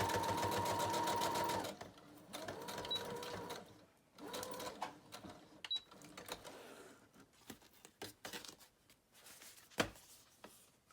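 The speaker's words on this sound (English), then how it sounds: "So some wavy stitching." A sewing machine stitches wavy lines across a collage journal page, a rapid mechanical whir at first, then shorter stop-start runs with pauses as the page is moved, fairly quiet and close.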